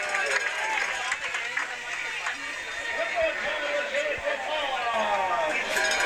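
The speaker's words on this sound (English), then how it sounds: "And that brings the crowd to a little bit of excitement here." A football stadium crowd at a Trinity versus Sewanee college game, a broad steady roar of cheering and chatter that continues throughout, with babble and voices mixed in.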